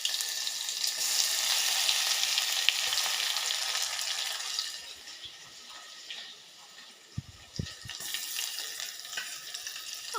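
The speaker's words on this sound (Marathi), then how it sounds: "मोहरी टाकते। मोहरी तडतडली की" Mustard seeds splutter and fry in hot oil for a tempering, a dense close sizzle for the first half that softens later, with a couple of sharp utensil knocks near the end.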